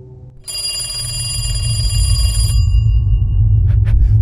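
A telephone rings in The Lighthouse video game, a bright, sustained electronic bell trill lasting about two seconds over a loud low rumbling ambience, followed by brief faint clicks.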